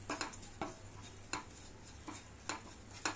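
Bread pieces roast in a pan for halwa, a quiet background sizzle broken by repeated scraping and tapping strokes of a spatula against the pan, irregular and fairly close, with no voices.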